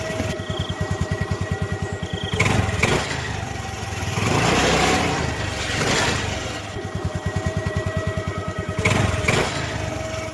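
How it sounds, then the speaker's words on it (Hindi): A motorcycle rides along a forest road with a loud, close engine whose rapid putter rises and falls. Several revving surges swell and fade over about ten seconds, with no talking. "फिर राजू बाइक चलाता हुआ जंगल के रास्ते अपने घर जाने लगता है।"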